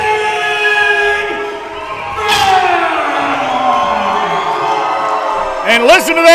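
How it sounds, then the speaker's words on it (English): A crowd cheering in an arena at a live fight event in Plaquemine, Louisiana. A loud announcer's voice rises over the roar, and the crowd noise swells again near the end. "And listen to that crowd, Nick."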